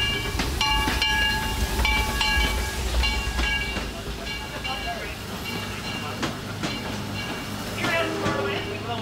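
A small Disneyland train rumbles along its rails with rhythmic clacking and squeaks, people chattering nearby over the steady mechanical noise.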